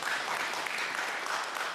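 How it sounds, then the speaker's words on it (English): A brief burst of audience applause at a medical talk, an even, moderately loud patter of many hands clapping with no voices. "How about a round of applause for Russ?"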